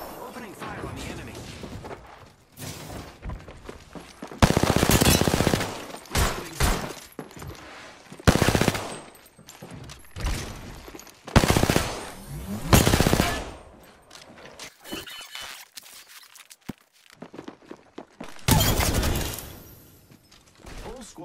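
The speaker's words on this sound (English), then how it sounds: "Opening fire on the enemy." Rapid bursts of Mastiff shotgun fire in a video game, loud and repeated in clustered volleys across the stretch, with quieter gaps and a voice speaking over the combat.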